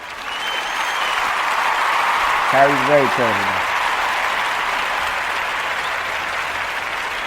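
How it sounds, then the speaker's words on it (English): An audience claps steadily through the stretch, a broad even wash of applause, while a voice speaks briefly over it partway through. "And round of applause for that."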